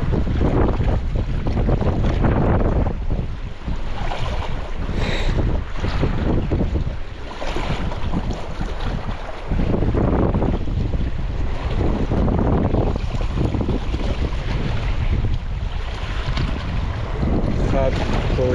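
Wind blows hard across the open sea while someone fishes for sea bream from a boat, a loud, continuous, buffeting rush with no pauses and no voices.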